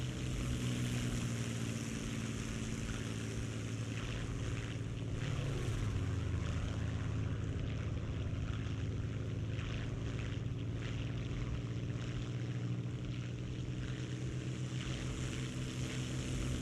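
Propeller fighter plane engine droning steadily in a video game dogfight, a loud continuous hum with a pitch that shifts as the aircraft maneuvers, heard alone without speech.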